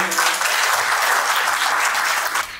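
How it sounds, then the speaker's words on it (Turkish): An audience claps in steady, dense applause at a formal assembly, loud and continuous for a few seconds before easing at the end. "Alkışlarla davet ediyorum."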